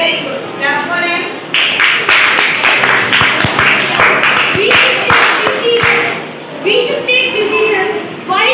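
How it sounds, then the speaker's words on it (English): Classroom clapping after a sixth-grade English poem recitation with stick puppets of The Raven and the Fox, loud uneven hand claps from students near the microphone, arriving in bursts with voices mixed in. "Clap for him."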